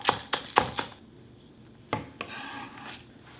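A knife chopping green onion on a cutting board, four quick close thuds followed by a pause and then two more, with no talking.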